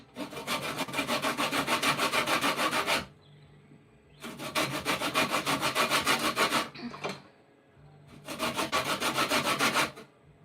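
Citrus fruit scraped against a grater for cake zest, three long loud bursts of rough rasping strokes separated by short quiet pauses.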